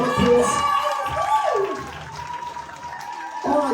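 Audience at a grand-finale results night of a Welsh talent show breaks into sustained applause and cheering, a dense crowd roar that dips briefly in the middle and swells again at the end.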